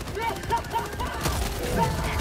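Weapons fire in a Helldivers 2 battle on PS5, with a quick volley of repeated shots and blasts in close succession over a steady game backdrop.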